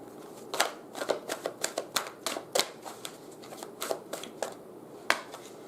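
Tarot cards being shuffled by hand in a warm room where the cards have turned slightly sticky, giving a quiet run of irregular riffling slaps and flutters, fairly close and alone with no talk.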